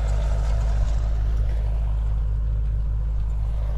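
A farm tractor pulling a cultivator while working a field for sowing winter cereals in the rain gives a loud, steady, low engine drone heard close up with no break.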